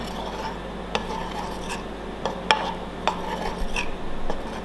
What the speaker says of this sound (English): Just stir that in